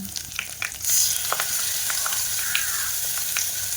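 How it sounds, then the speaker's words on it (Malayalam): Mackerel fries in a hot pan, giving a steady, loud hiss and crackle with scattered sharp spits and pops close by, and no speech over it. "അയല പൊരിക്കുക കേട്ടോ ഒന്ന്"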